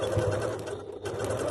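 A sewing machine runs steadily, its fast mechanical stitching hum continuous and close throughout.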